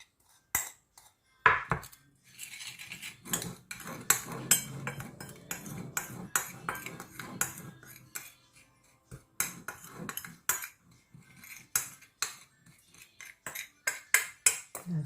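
A utensil clinks and scrapes against a bowl while chicken is tossed with herbs and spices, giving a steady run of sharp taps and rattles over a soft, wet stirring rumble, close and fairly loud.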